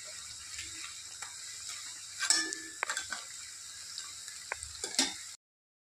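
Taro fritters (kochur bora) frying in oil in a pan, a faint steady sizzle with scattered ticks and a few louder scraping or stirring knocks, quiet and close, ending abruptly.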